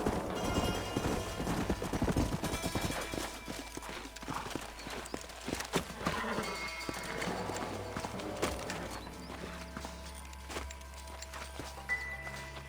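Horses clip-clopping in the video game Red Dead Redemption, a close, irregular run of hoof clops on hard ground with a whinny, snorting, and shifting hoofbeats over low ambient game sound.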